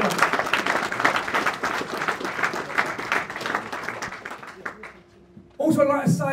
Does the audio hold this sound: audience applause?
yes